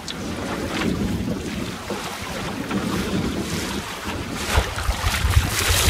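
Wind gusts roar across the microphone on a sailboat heading out from Lemon Tree Passage in about 12 knots, with water washing against the hull beneath, loud and continuous.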